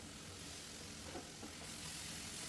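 Chopped tomatoes sauté in a pan for chicken curry, giving a faint, steady frying hiss that stays even throughout, with no talking.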